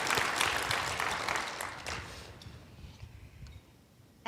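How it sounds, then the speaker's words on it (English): Dense audience applause at an awards ceremony, many hands clapping together, loud at first and gradually thinning out and fading over a few seconds. "let's give them a round of applause"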